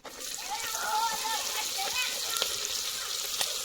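Green chillies going into hot oil in a pot, a steady bright sizzle and light spattering up close, with a voice speaking faintly underneath.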